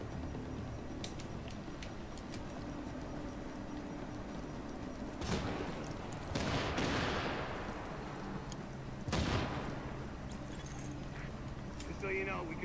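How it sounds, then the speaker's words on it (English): Explosions in the video game The Division, a few deep booming blasts with rumbling tails against a steady game background, with a voice talking over the action. "God, I love those explosions."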